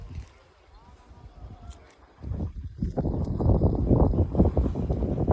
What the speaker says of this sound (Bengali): তো আমরা নৌকাতে গাড়ি তুলে নিয়েছি, এবার যাচ্ছি আমরা ওই পারে, নদীর ওই পারে